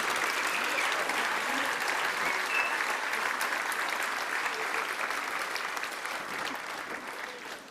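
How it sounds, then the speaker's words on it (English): An audience at the Erindale College Year 12 graduation ceremony applauds the graduating class in a dense, steady roar of clapping that lasts the whole stretch and eases slightly at the end. "Let's give another round of applause to this year's outstanding graduating group."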